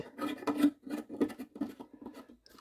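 A compact fluorescent bulb, a Claude Minix 20W E27 warm white, is screwed into a lantern lamp, making a series of close, short scraping and rasping twists in an uneven rhythm, with no talk.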